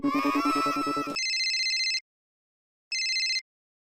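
A phone ringtone plays a melodic tune, then shifts into a bright repeating electronic ring that cuts off, pauses, and briefly rings again.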